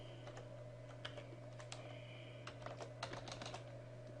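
Password being typed on a computer keyboard while logging in to a Zentyal Linux server: a quiet run of irregular key clicks over a steady electrical hum, no voices.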